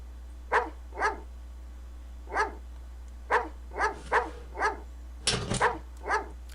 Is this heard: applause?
no